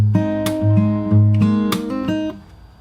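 Fingerstyle acoustic guitar plays the first bar of a pre-chorus, plucked major chord shapes with bass notes and bright strums in a steady rhythm, close and alone.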